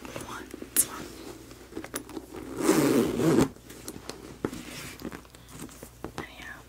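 A handbag zipper is pulled open and shut in one long, close rasping run with a few shorter zips and small scratchy handling sounds around it, and soft whispering comes through in the gaps.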